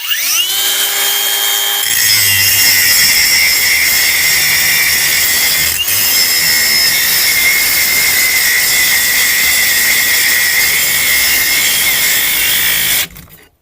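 A Procraft AG125C cordless angle grinder spins up with a rising whine, then grinds loudly and continuously for about eleven seconds with a cleaning disc pressed under load, before stopping abruptly.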